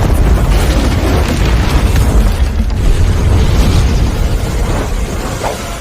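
A bomb goes off in an action film scene set at a warehouse, producing a loud, sustained roaring blast with rumbling debris and bursts that last several seconds, with no speech.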